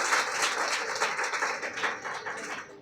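A church congregation claps steadily together during a pastor's service, a dense sustained patter of many hands filling the room.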